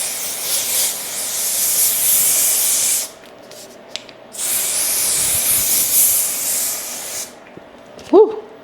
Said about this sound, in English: Okay, I picked up the Amica Fluxus hairspray. I'm just gonna spray this now.